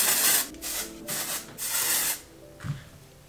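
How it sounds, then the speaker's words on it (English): Hairspray hisses from an aerosol can in several bursts close up as it is sprayed into freshly curled hair with curtain bangs, then stops. "spray literally all of this in your hair"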